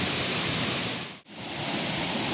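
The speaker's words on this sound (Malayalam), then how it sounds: "അതിൻ്റെ തൊട്ടടുത്ത് തന്നെയാണ് വെള്ളച്ചാട്ടം." A waterfall gives off a steady broadband rush that drops out briefly at the midpoint and then returns at the same level.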